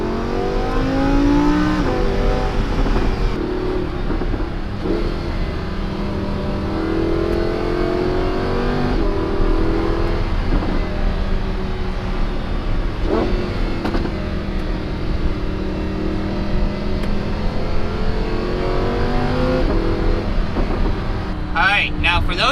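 A Lamborghini Huracan in manual mode with its engine idling and revving, the pitch rising and falling in repeated swells, loud and close, with a person talking over it throughout.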